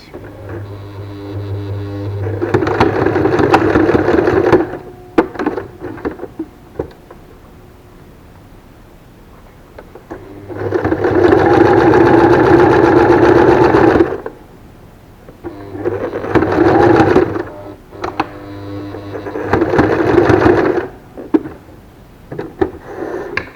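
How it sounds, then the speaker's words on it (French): A domestic sewing machine stitches fabric ear protectors for face masks in several loud, close bursts of rapid whirring, separated by quieter pauses with handling noises. "on plante l'aiguille, un point d'arrêt et c'est parti"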